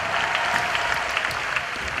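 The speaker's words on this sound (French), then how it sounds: "On applaudit notre ami guerrier" A studio audience applauds the warrior player of Injustice: Gods Among Us, a brief, steady wash of clapping with no pauses.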